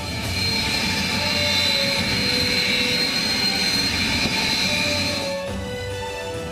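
Sukhoi Su-30MKI fighter jet of the Indian Air Force, a loud continuous engine roar with a high whine that holds steady and eases slightly toward the end.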